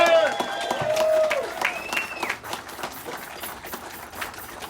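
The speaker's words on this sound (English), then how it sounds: "I think we should give him another round of applause" A crowd at a union commemoration event applauds a speaker, with a voice calling out at the start over a burst of clapping that tapers into scattered claps and cheers, heard from a moderate distance.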